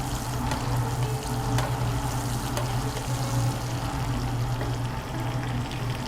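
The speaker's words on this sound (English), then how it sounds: "We'll baste this side. Get some of this thyme on there." Meat sizzles steadily in a hot pan while being basted with thyme, a continuous close crackling fry with occasional soft spoon splashes, no talking.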